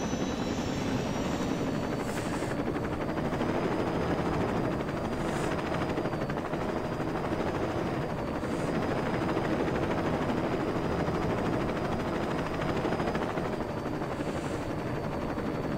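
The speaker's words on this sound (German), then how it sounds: "Nein, es ist ein Heli." A helicopter in the video game Saints Row 2 drones steadily throughout, a dense continuous rotor and engine roar with no talking, holding a constant loudness from start to finish.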